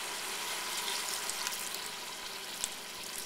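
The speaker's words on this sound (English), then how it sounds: "I'm going to throw in a little of my cooking wine here" Cooking wine hits a hot, sizzling pot of minestrone, making a soft, even hiss and faint bubbling with a small crackle near the end.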